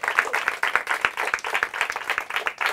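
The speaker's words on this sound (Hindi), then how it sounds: "ज़ोरदार तालियां हो जाए इनके लिए" An audience at a Hindi quiz competition breaks into applause, a dense and steady burst of many hands clapping together that fills the whole moment without any speech.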